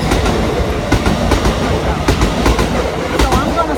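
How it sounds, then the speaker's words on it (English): Commuter trains rumble past at rush hour in Funabashi, Tokyo, a steady loud roar with rhythmic clickety-clack of wheels over rail joints repeating throughout, heard close by from street level. "2 trains today"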